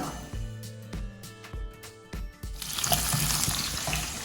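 Sliced onions dropped into a pan of hot oil with garlic and dried red chillies for tomato chutney, a few clattering knocks and then a sudden bright, steady sizzle swelling up close.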